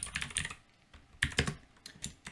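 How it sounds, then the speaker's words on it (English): Rapid typing on a computer keyboard while coding in Python: irregular bursts of close, crisp key clicks with brief pauses between clusters, and no voices. "Or you know what? I'll type in the whole thing."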